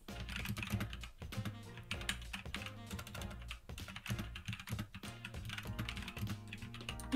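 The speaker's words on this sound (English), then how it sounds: "The typing." Rapid, quiet clicking of a computer keyboard, keys tapped in an uneven stream with brief pauses, close by and without talking.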